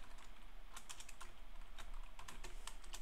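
Rapid keystrokes on a computer keyboard while code is typed, a steady run of light clicks in irregular bursts, close and clear with no talking.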